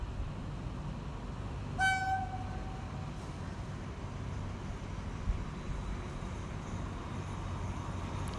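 Alstom locomotive number 4303, hauling train 282 from Kabin Buri to Bangkok Hua Lamphong at Makkasan railway station, gives one short horn blast lasting about a second over a steady low rumble of the train, with no voices.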